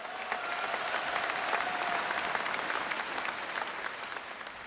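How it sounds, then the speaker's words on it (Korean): Audience applause at a Korean party convention during a presidential nomination acceptance speech, steady dense clapping from a large crowd lasting throughout, with a faint tone underneath. "여러분 따뜻한 격려의 박수를 부탁드립니다."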